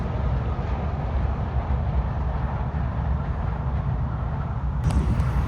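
A Washington DC Metro train running, a loud steady rumble and roar of wheels and motors filling the whole stretch, with a faint high whine near the end and no talk.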